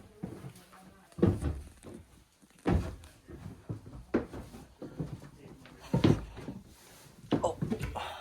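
A short door in a cabin opens and closes, giving a string of separate thumps and knocks spaced a second or so apart, with people talking between them.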